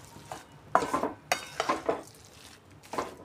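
A spoon scrapes and stirs through a milk and sugar mixture for coconut barfi in a pan, making several uneven swishing strokes with quiet pauses between them.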